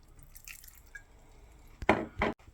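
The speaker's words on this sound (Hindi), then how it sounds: "2 टेबलस्पून जितना सोया सॉस डाल देंगे" Soy sauce goes into a chicken marinade, heard as a few faint drips followed by two short, louder wet splashes of liquid near the end.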